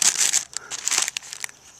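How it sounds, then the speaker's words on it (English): Crinkly plastic packaging of a dehydrated red beans and rice meal bag rustles as it is opened and the inner protective bag is pulled out, in close, loud bursts of crumpling with short pauses between. "Open your bag, take the inner bag out, that protective bag I was telling you about."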